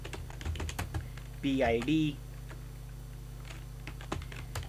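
Quick clicks from a computer keyboard while a command is typed, close and fairly soft, with someone briefly speaking in the middle.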